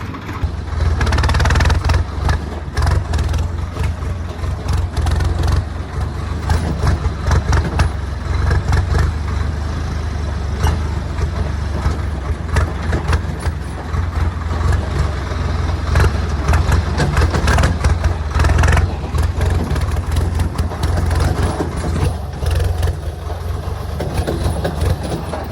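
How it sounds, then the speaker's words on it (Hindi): A tractor drives along a rural track near a stone crusher site, its engine rumbling loudly and steadily throughout with continuous rattling and road noise. "तुम्हारा भाई चला है ट्रैक्टर।"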